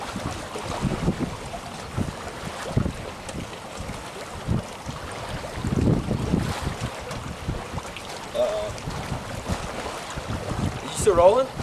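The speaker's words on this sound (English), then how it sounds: "As you can see, it's a little bit windy out here today." Gusty wind buffets the microphone outdoors on open water while fishing, with rumbling surges and faint water noise throughout.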